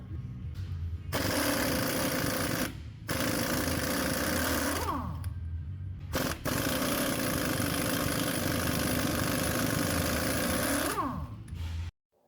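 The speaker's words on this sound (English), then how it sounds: "My Harbor Freight impact was struggling here" Harbor Freight impact wrench removing paint- and Loctite-covered axle nuts on a Volvo semi truck drive axle, loud rapid hammering bursts in three long runs separated by short pauses.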